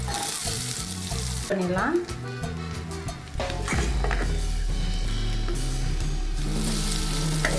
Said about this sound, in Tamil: இந்த ஸ்டேஜில் நம்ம கட் பண்ணி வச்சுருக்க வெங்காயத்தை சேர்த்துக்கலாம்.